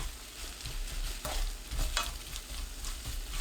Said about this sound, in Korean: 마늘쪽 넣고 섞어줍니다.